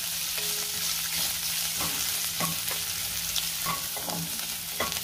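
Chopped onion sautés in a pan for a Marathi shev bhaji, with a soft continuous sizzle broken by several close scraping stirs of a spatula.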